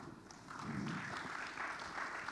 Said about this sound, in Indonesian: Terima kasih banyak, kita berikan tepuk tangan.